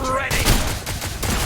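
Rapid volleys of torrential cannon fire in the video game Paragon: The Overprime, loud and close, with several sharp bursts in quick succession over a dense battle backdrop.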